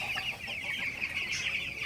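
Eleven-day-old broiler chicks cluck and chatter continuously nearby at night, a dense flock murmuring with no voices over them.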